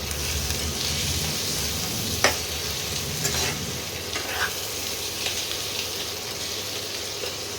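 Two chopped tomatoes fry in a pan of lamb curry, giving a steady sizzle under repeated stirring, with a couple of sharp spoon clinks against the pan near the middle.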